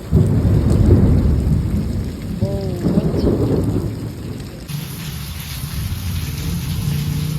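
Heavy rain pours steadily while deep thunder rumbles and rolls through the first half, then the downpour continues with a hissing wash.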